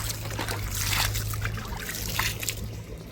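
Water poured and sloshed into a mohua cake mixture outdoors beside a village pond, a steady trickling and splashing at close range with a low background hum.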